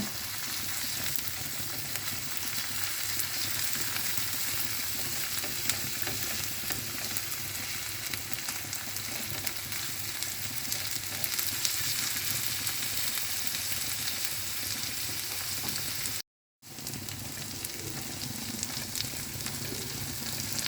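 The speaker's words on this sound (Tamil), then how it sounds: "நல்லா வதக்கிக்குங்க." Spicy chilli prawns sauté in a hot pan, a loud, continuous sizzle and hiss with occasional stirring, running without speech and broken only by a brief dropout.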